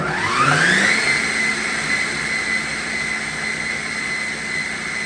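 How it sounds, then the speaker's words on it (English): A food processor runs steadily with a loud, continuous whir as it blends gluten-free red lentil bread dough, its pitch rising quickly at the start and then holding even for several seconds, with no talking. "Did you see how it was kind of dancing around in the bowl of the processor?"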